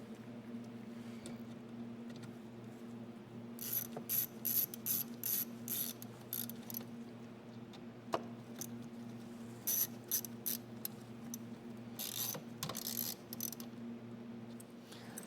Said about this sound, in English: We'll go ahead and put the reservoir back on. Just with those two little Torx bit screws.